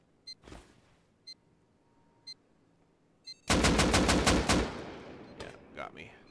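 In the survival game Rust, a few faint beeps precede an automated turret opening up with a loud, rapid burst of gunfire lasting about a second, followed by scattered softer shots.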